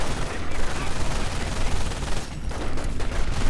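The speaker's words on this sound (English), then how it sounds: "light machine gun fire from the two bikes" Light machine gun fire from two bikes in a strategy video game rattles continuously, loud and dense, with overlapping bursts and battle noise filling the whole stretch.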